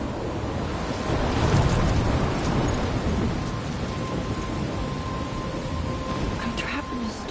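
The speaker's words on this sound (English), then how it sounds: "I'm trapped in a storm?" A thunderstorm with steady heavy rain in the video game Life is Strange, a dense continuous wash of downpour with low rumbling thunder swelling early on, constant and fairly loud throughout.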